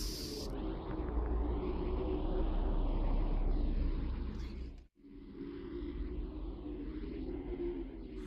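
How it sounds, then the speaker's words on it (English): A steady low rumble like distant airplanes in a rendering of Earth as heard from space, droning evenly and softly with a brief dropout midway before the rumble resumes. "It's so weird, you can hear like planes and shit from space"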